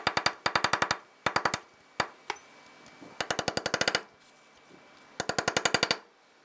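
A small punch is hammered against the staked axle nut on a 2003-2011 Honda Element, in bursts of rapid metallic taps, several quick strikes per burst, with short pauses between and a bright ringing tone.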